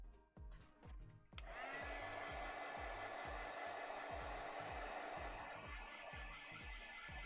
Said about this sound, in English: We're gonna go ahead and dry this.